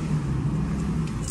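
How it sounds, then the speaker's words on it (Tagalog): A motor tricycle passes on the street nearby, a steady low engine rumble and road noise holding throughout the short moment. "Maingay lang ng tricycle, no?"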